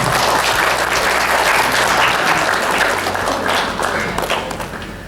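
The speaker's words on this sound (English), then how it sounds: "So a big round of applause for them" Loud, close crowd applause at an achievers' meet honouring successful CLAT exam candidates, sustained dense clapping with a low hum underneath, easing slightly toward the end.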